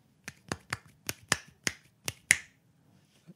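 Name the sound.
one hand clapping imitated with a snap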